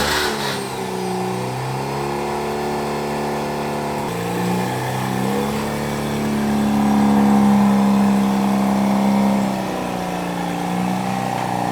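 A Mazda RX8 rotary engine idles steadily with the hood cracked open in a driveway, a smooth continuous drone with a slight swell in pitch partway through and a faint whir on top, no talk.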